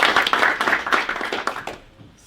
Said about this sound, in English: Please give a round of applause for Josh.